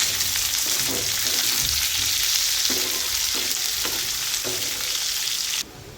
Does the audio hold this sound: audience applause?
no